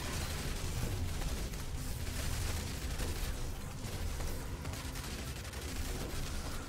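Rapid, overlapping gunfire from a pump-action shotgun, pistol and SMG in a zombie survivor-like video game, a dense continuous barrage of shots and pops at steady loudness with no speech.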